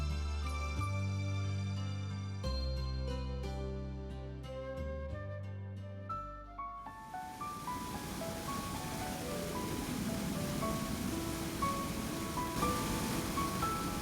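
The Sambuyeon waterfall in Gangwon-do gives off a broad, steady rushing roar that swells in about halfway through, under a sustained musical melody that plays throughout.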